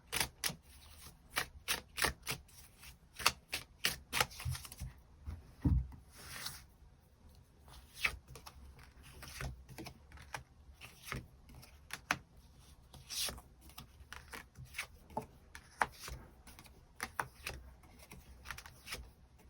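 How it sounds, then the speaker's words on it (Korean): Tarot cards shuffled and drawn by hand, with a long run of crisp, rapid card flicks and taps, close and clear against a quiet background with no talking. "추가 카드 뽑아보도록 하겠습니다"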